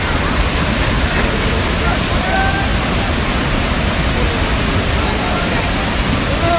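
Heavy rainfall in Himachal, a loud, unbroken roar of pouring water that stays steady throughout.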